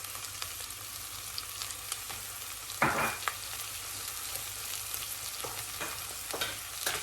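Leek, onion and garlic fry in a soup pot, giving a continuous gentle sizzle with scattered scraping stirs and one sharper clatter near the middle, close and without talk.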